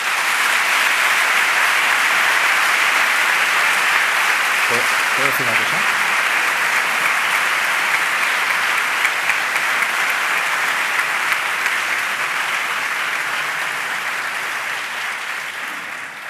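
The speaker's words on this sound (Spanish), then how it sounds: "os pido al público un fuerte aplauso para ellos" Sustained applause from a conference audience at an economics event in La Vall, loud and even for many seconds before slowly thinning out, with a voice briefly speaking partway through.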